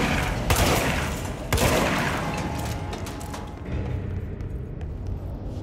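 Weapon fire in the video game Control, a fairly loud shot near the start and another about a second later, each trailing into a long rumbling decay over a dense, noisy game background.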